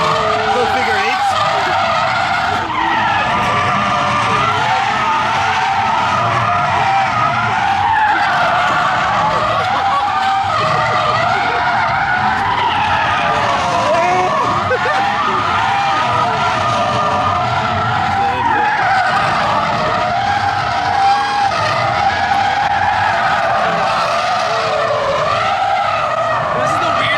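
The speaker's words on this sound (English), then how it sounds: "This is the weirdest drifting experience I've ever had." A car drifting in figure eights, with loud continuous tire skidding and squealing and engine noise throughout, close to the listener.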